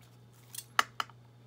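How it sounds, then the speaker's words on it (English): Scissors cut paper for a basket weave card, giving a few quick, crisp snips close by, quiet and isolated against a faint background hum. "So what I'm gonna do is use my scissors."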